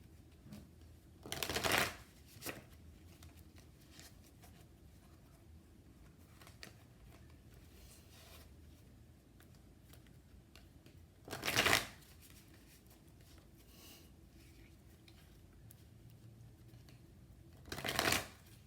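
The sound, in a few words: tarot cards being shuffled and drawn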